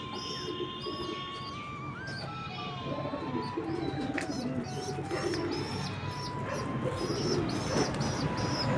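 Several pet pigeons coo in low, rolling calls over a steady background, joined by bright chirps and tweets from other birds, fairly close and continuous.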